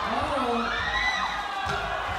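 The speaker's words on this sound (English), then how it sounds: "And the crowd showing some energy out here as well" A basketball crowd cheers and shouts at a women's FIBA 3x3 quarter-final between New Zealand and Chinese Taipei. The roar is steady and fills the whole stretch, with whoops and children's shouts rising above it.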